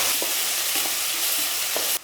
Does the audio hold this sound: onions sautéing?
yes